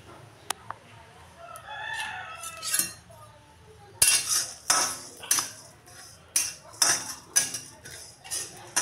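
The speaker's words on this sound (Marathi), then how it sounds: "आता आपण हे सगळं कढईमध्ये भाजायला टाकूया." Sesame seeds and coriander for a Vidarbha-style dhaba masala are dry-roasted in a kadhai. Sharp metallic scrapes and clinks of stirring repeat close by in irregular bursts, and a rooster crows faintly in the background beforehand.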